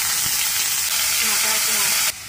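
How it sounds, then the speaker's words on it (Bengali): Onion paste sizzling in soybean oil in a frying pan, a loud, dense, steady hiss that cuts off abruptly near the end. "এখন সয়াবিন তেলের ভিতরে একে একে দিয়ে দেব পেঁয়াজ বাটা 2 চা চামচ"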